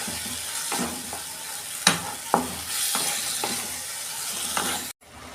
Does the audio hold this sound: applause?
no